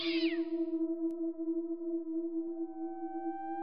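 A cat gives one drawn-out, wailing meow that holds a steady tone for several seconds, clear and close in an otherwise quiet setting.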